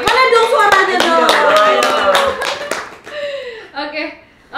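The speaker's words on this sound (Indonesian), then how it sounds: "Tepuk tangan" A group claps their hands at a casual talk-show event, a steady burst of sharp claps with voices cheering over it, then the clapping fades as a host speaks.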